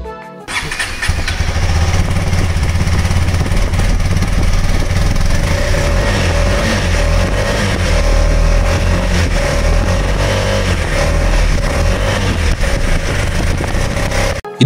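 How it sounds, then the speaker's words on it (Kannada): A KTM 250 Adventure motorcycle exhaust runs loud and close, a continuous throaty engine drone that holds steady for the whole stretch with slight rises in pitch, no talking over it. "250 ಅಡ್ವೆಂಚರ್ ಬೈಕ್ನ ಎಕ್ಸಾಸ್ಟ್ ಸೌಂಡ್ ಹೇಗಿದೆ ಅಂತ ನೋಡೋಣ."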